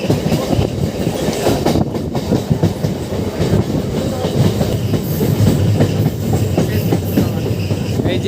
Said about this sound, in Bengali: আমাদের ট্রেনটি মূলত যাবে সম্প্রীতি সেতুর উপর দিয়ে